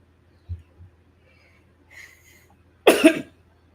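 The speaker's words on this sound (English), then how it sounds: "excuse me for the cough" One loud, close cough bursts out after near silence, preceded by a couple of faint soft breaths or noises.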